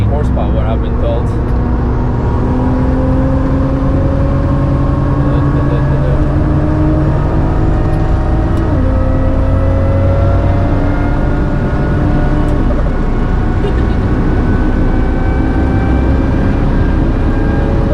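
An 800hp Toyota Supra MKIV with a ZF8 gearbox swap runs hard on the Nürburgring, its loud engine drone climbing through the revs with a gear change midway and a steady rising pull afterward.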